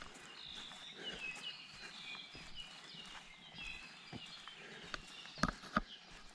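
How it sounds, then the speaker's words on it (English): Birds sing and chirp in a Hawaiian upland hybrid forest at Hosmer's Grove, high thin calls and warbles layered through the clip, with a few sharp closer clicks near the end. "That's why you hear the birds that you hear."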